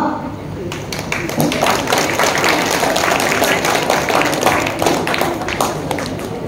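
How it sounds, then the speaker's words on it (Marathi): Audience applause at the opening ceremony of a state youth stairs games event, with dense, steady clapping from a crowd that carries on loud and close throughout. "त्यामुळे टाळ्या वाजवा"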